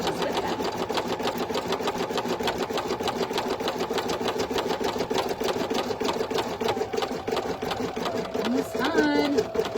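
An embroidery machine stitches a patch for an in-the-hoop sleep mask. It gives a fast, steady mechanical chatter of needle strikes close by, and a person talks over it.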